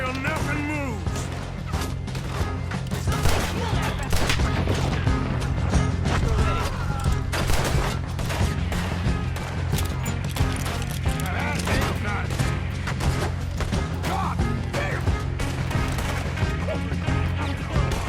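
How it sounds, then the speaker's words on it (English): A Red Dead Redemption 2 shootout fills the whole stretch with dense, continuous gunfire, overlapping shots and crashes at steady loud intensity, with voices mixed in. "Just keep shooting till nothing moves."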